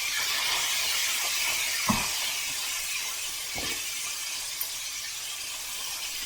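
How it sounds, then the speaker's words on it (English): Fried chicken sizzles in a pan with a steady, bright hiss of hot oil, broken by a couple of louder pops and crackles. "See how that sizzle just gets a little bit higher"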